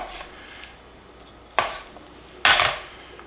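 Roasted onions being handled and cut on a board: two sharp knife knocks and soft shuffling of skins, close and alone without talk.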